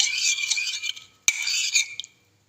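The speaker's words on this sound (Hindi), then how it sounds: "पानी के अंदर सारे मसाले अच्छी तरह मिक्स करेंगे।" A spoon stirs ground spices into a cup of water for crispy Gobi 65 batter, giving steady scraping and clinking against the bowl for about two seconds, with a sharp knock midway before it stops.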